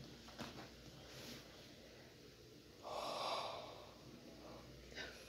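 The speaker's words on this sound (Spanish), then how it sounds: "Me gana el bostezo" A woman's tired yawn, a broad breathy swell lasting about half a second in mid-clip, set among quiet sniffs and breaths in an otherwise still room.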